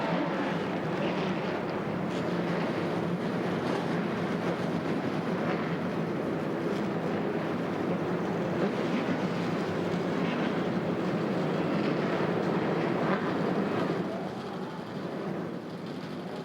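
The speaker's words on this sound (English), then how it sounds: "Daytona Beach comes alive with the sound of Winston Cup engines." Several NASCAR Winston Cup stock car engines fire up together at Daytona International Speedway before the 1998 Bud Shootout, a dense, loud, steady roar that holds throughout and eases slightly near the end.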